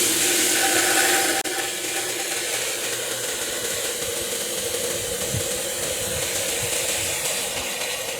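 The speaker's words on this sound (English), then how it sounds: "Let's start with filling the basket with water." Water pours and splashes steadily into a pool pump basket, a loud continuous rushing hiss that barely changes for several seconds, with no voices.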